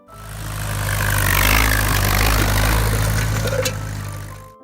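An Allis-Chalmers WD-45 tractor engine runs loud and close with a steady low idle throb and a constant rumbling hum, with no voices over it.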